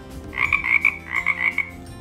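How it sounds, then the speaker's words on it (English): Frog croaking in a quick burst of rhythmic, raspy calls in two groups, moderately loud and close, with no voices around it. "frog,"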